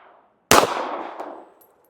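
Single loud close pistol shot from a S&W Bodyguard 2.0 .380 firing 90 gr XTP ammunition, a sharp crack with a short ringing decay.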